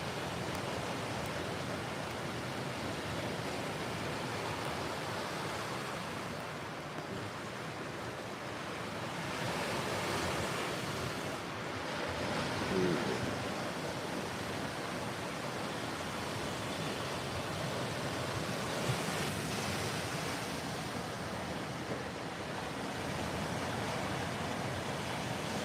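Waves wash onto a North Carolina beach in a continuous soft roar of surf with some wind, fairly faint and distant, alone and rising slightly in places.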